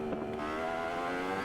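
Steady engine drone from a Yamaha crossplane-engine motorcycle in the Isle of Man: Ride on the Edge 3 racing game, held at roughly even revs, close and loud throughout, with no talking.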